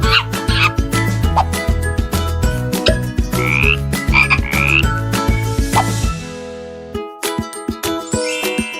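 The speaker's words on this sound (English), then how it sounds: "Frog." A frog croaks repeatedly in quick, bouncy bursts over busy background music, loud and up front.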